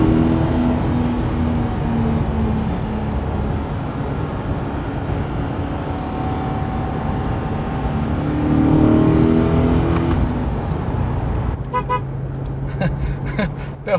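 A 2023 Chevrolet Corvette C8 accelerating hard, its engine note rising and falling steadily through quick gear shifts, loud and close from inside the cabin, with a brief sharper burst near the end.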